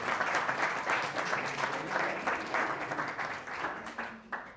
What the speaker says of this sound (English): a round of applause for the amazing work that you've done in France